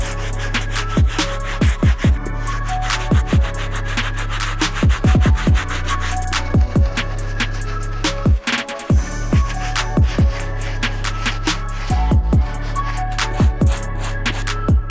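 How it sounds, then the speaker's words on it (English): Medium bristle brush scrubbing dirty midsoles of a crusty Air Max 1 sneaker, a close, continuous scratchy rubbing made of rapid repeated strokes, with a few brief pauses and no talk. "move on to our medium bristle brush so we can attack these dirty midsoles."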